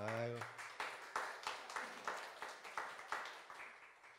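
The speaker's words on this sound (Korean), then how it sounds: "우리 서로를 위해서 박수하겠습니다." A church congregation applauds in a slow, regular rhythm of about ten claps, moderately close, after a short spoken word at the start.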